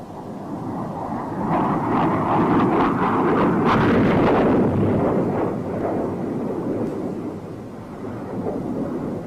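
Explosions from aircraft strafing and dive-bombing road networks, troop concentrations and supply areas in the Vietnam War, a sustained heavy rumble of distant blasts that swells in the middle and slowly fades.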